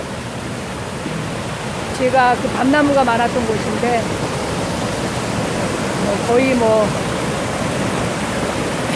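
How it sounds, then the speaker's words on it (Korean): A rain-swollen mountain stream in a chestnut grove, turned into a waterfall after an overnight downpour, roars steadily and close, with someone talking over the rushing water. "폭포수로 변해버렸습니다"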